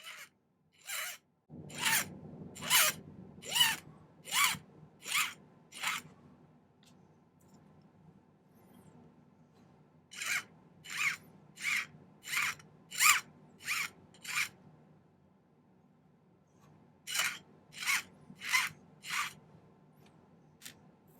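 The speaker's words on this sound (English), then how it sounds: "let's file them both flat." A file rasps across the ends of silver wire in three bursts of rhythmic back-and-forth strokes, each stroke a crisp scrape, with quiet pauses between the groups.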